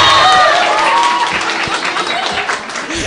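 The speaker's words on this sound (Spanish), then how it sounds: "¡Aplausos para el profe!" An audience at a student council candidates' event at Colegio Rumiñahui applauds a teacher with lively clapping and scattered voices, loud at first and tapering slightly.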